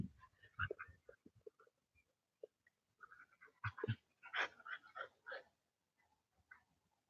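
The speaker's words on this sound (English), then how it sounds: "the dogs are keeping me busy for sure" A dog playing with a ball indoors, heard close through soft panting, snuffles and small thumps in uneven bursts, with quiet stretches between them.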